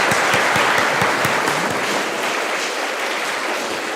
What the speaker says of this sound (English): So let's give them a clap.